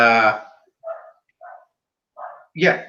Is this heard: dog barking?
yes